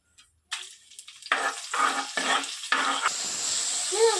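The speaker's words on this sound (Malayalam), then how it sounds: "നമ്മൾ മൺചട്ടിയിൽ എണ്ണ ഒഴിച്ചിട്ടുണ്ട് എണ്ണ ചൂടായതിനു ശേഷം നമുക്ക് തക്കാളി ഇടാം" Tomatoes hit hot oil in a clay pot, breaking into a loud close sizzle after a brief quiet start, then pulsing in bursts as they are stirred before settling into a steady hiss.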